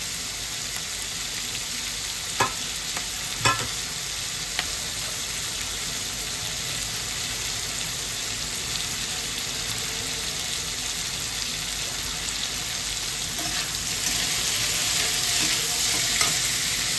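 Spices fry lightly in a pan for butter chicken, giving a continuous bright sizzle with occasional sharp utensil taps and scrapes, swelling slightly louder near the end; no one speaks.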